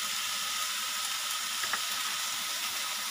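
Chicken with ginger garlic paste frying in a pan for Russian kabab, a loud continuous sizzle and hiss, close up, with a faint stir or two, no talking.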